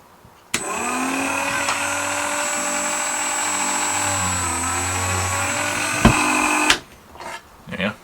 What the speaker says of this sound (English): got my Dremel set, so now all I have to do is drill.